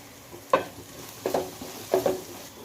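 Spices and curry leaves being sautéed in a pan for kappa biriyani, with a few sharp bursts of sizzling and stirring at close range against a quiet background, no talking.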